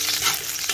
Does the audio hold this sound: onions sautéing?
yes